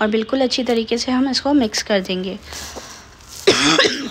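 A woman cooking a simple potato curry speaks in Hindi, and then a single short cough breaks in near the end, close to the microphone.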